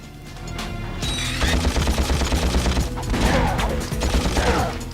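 Rapid weapon fire in a Ratchet and Clank game, with bursts of shots that run continuously over a loud, busy game soundscape.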